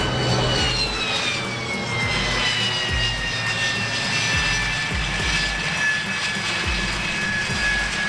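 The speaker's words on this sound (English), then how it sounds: "Attack plane, combat aircraft." Combat attack jet in flight, a loud, sustained engine roar with a high whine that slowly drops in pitch as it passes, joined by low rumbling thuds.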